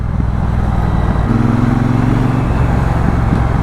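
A Triumph Bonneville Bobber motorcycle engine runs loud and close with a deep continuous rumble, its exhaust giving faint irregular pops over the steady drone.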